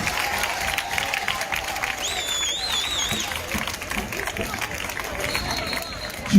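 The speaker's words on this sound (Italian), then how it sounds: "vi chiedo di fare un grande applauso al comune di Cinque Frondi" A crowd at an outdoor peace march in Cinquefrondi, Italy, claps in sustained applause, dense and even, with some cheering and chatter mixed in.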